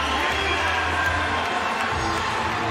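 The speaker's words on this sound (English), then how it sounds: "Colin Moore gets a nice round of applause as he makes his way on the center" A crowd at a college wrestling meet in an arena, Arizona State against Ohio State, gives a steady wash of applause and cheering that stays level throughout, with no single voice standing out.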